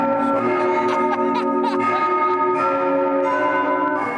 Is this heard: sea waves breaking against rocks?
no